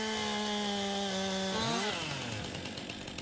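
Chainsaw cutting trees in Farming Simulator 19, a steady high idle drone that dips and shifts pitch as the engine bogs into the wood, then settles into a rougher grinding buzz.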